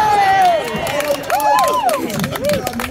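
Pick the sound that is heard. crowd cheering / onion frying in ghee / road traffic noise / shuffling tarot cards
crowd cheering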